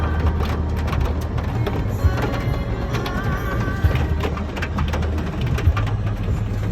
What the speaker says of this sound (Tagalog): Grabe ka ulan.